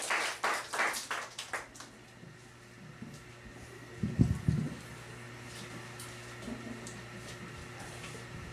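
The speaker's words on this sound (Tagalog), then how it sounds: "Muli, palakpakan po natin ang ating Panginoon." A church congregation clapping for the Lord, a burst of close rhythmic applause at the start fading out after about two seconds, followed by quieter shuffling and a few thumps.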